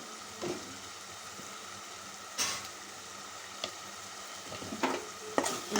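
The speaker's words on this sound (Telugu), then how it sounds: "ఇంకొక ఐదు నిమిషాలు ఇదంతా ఫ్రై చేసుకోవాలి" Ginger paste and chili powder fry in a pan for an Andhra-style fish curry, giving a continuous soft sizzle with a few scraping stirs and clinks.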